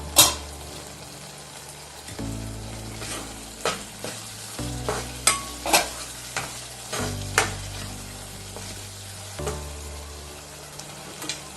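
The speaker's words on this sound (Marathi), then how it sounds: "आता बारीक गॅसवर मी थोडा वेळ हा मसाला होऊ देते आहे." Masala for a dry Bombay duck (bombil) curry frying in a pan on low heat, with a spoon scraping and stirring it in repeated strokes over a steady soft sizzle.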